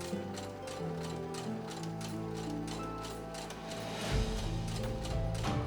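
A sewing machine stitching a custom zigzag stitch around fabric edges runs at a steady, even mechanical whir with rhythmic needle ticking, close and fairly loud, and picks up slightly near the end.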